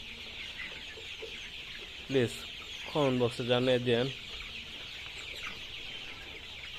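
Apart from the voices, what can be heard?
chickens clucking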